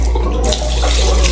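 Hot water gushes steadily from a hotel bathroom tap at Cebu Westown Lagoon, a loud close splashing rush that continues without pause for the whole moment, no talking over it.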